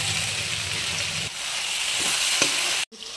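Spinach goes into a hot pan while cooking dal, giving a loud, continuous sizzle and frying hiss that stays close and steady, with a brief clatter near the end.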